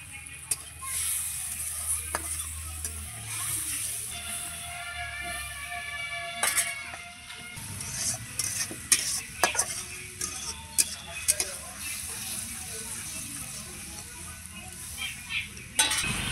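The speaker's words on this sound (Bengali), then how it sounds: "সামান্য সামান্য জল দিয়ে মশলাটা কষাতে থাকবো।" Spice paste for bitter gourd rezala frying in a pan with splashes of water, steady sizzle with intermittent stirring clinks and scrapes, close and moderately loud.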